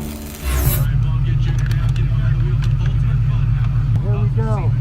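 Car engine revving steadily with a deep, continuous drone as a vehicle drifts across an asphalt parking lot, loud and close throughout, with a brief tire squeal near the end.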